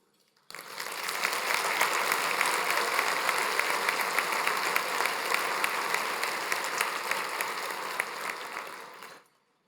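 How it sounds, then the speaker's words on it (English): Luncheon guests at a children's advocacy event give award recipients a round of applause: dense, steady clapping that starts abruptly, holds evenly at close range for about nine seconds, then fades out. "give another round of applause to our award"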